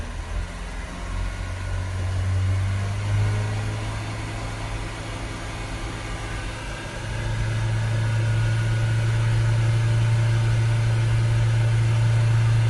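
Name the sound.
Fiat Talento 1.6 dCi van engine revved to 3000 RPM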